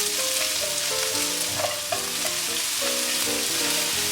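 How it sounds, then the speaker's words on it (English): Onions and leeks sizzle steadily in a hot pan while a utensil stirs them, with occasional scrapes and taps. The sound is near and constant, and no one speaks. "Probably the onions go first. They need a little bit of browning."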